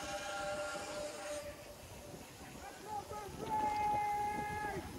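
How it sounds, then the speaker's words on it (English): Train passing on a San Francisco street, heard from a distance as a faint rumble with high metallic squeals and tonal whines while voices talk over it. "It's a train."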